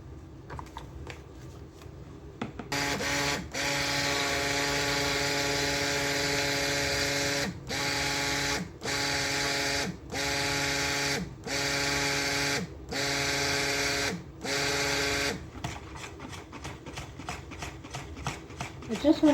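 A stick blender whirs loudly and steadily through tallow soap batter, then pulses on and off in short regular bursts, with a voice speaking over parts of it.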